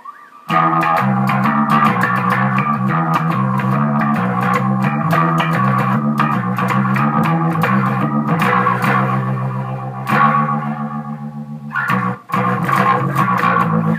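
A bass guitar played through a Leslie rotary cabinet pedal set to fast speed, its notes swirling with rapid warbling modulation in a continuous line of plucked phrases, with a brief pause near the end before playing resumes.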